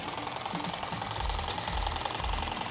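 A Fanttik Z10 Pro cordless hedge trimmer running in Eco mode while cutting through a bush: a continuous buzzing motor drone with chattering blade texture and slight low thumps as branches are cut, close and steady, no speech.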